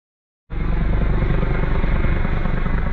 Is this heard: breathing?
no